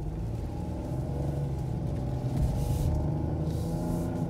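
Low, steady engine rumble from a 2021 Ford Bronco Sport Big Bend SUV, heard from inside the cabin as it turns onto a street, with a slight swell as it accelerates.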